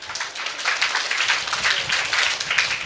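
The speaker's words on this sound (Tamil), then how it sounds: "எல்லாருக்கும் ஒரு கரகோஷங்கள்" Audience applauding at the closing ceremony of the SMS summer music classes in Salem, a steady dense crowd clapping that runs continuously throughout at fairly close, even loudness.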